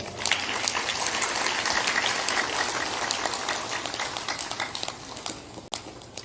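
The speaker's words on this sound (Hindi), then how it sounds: "बजा सकते हो ताली, कोई बात नहीं।" An audience at a spiritual discourse claps together, a dense, steady burst of applause that fades out toward the end.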